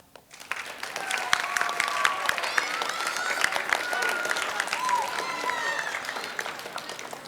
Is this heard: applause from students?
yes